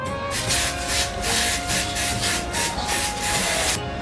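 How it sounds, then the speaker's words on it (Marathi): Freshly made Ganesh idols are polished in a workshop in Pen, giving a close, loud, rhythmic rubbing and scraping with quick back-and-forth strokes repeating roughly twice a second, with no voices. "ज्या घडवलेल्या गणेश मूर्ती आहेत त्यांना व्यवस्थित पॉलिश करून त्या पुढच्या प्रोसेससाठी तयार करण्याचं काम चालू आहे"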